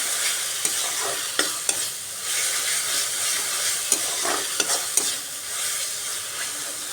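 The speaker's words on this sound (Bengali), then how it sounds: "এবারও আরেকটু সময় ভালো করে পেঁয়াজ আদা রসুন টমেটো কষিয়ে নিতে হবে" Onion, ginger, garlic and tomato sauté in a pan under a steady sizzle, punctuated by several sharp taps and scrapes of a spatula stirring at irregular intervals, with no speech.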